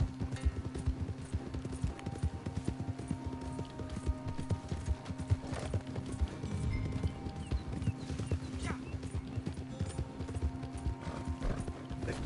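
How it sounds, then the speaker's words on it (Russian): Horse hooves clip-clop steadily and close on a hard surface, with an occasional whinny and voices talking in the background throughout. "Моя лошадь. My horse."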